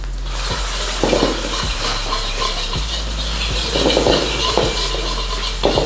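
Fried rice with garlic, spring onion and basic seasoning is stirred in a pan, giving repeated scraping and clanking strokes over a steady close sizzle, with a low hum beneath.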